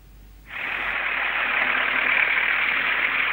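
A tractor engine abruptly roars to life and keeps running with a steady, loud mechanical drone, no voices present, while clearing a residential courtyard in Severodvinsk.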